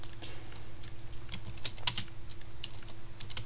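Typing on a computer keyboard, a steady patter of light key clicks with irregular rhythm over a low background hum, fairly close and moderately quiet.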